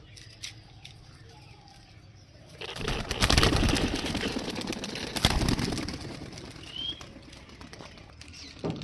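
Four pigeons released into the air, their wings breaking into a loud burst of flapping that swells midway and then fades as they fly off, over quiet background.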